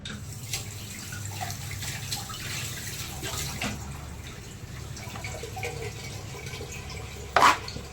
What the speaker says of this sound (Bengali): পেঁয়াজটা ধুয়ে নিই পেঁয়াজ সব সময় খোসা ছাড়িয়ে ধুতে হয় এই যে পেঁয়াজ ধুয়ে নিই